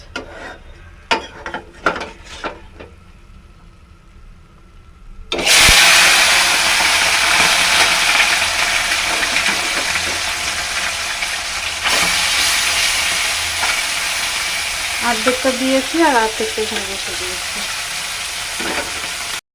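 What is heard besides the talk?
small fish frying in a pan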